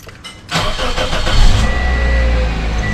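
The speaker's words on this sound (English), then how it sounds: "start up the vehicle" A 2005 Toyota Corolla LE is started during a front brake pad and rotor job: a short, loud cranking catch, then the engine settles into a steady, close idle hum.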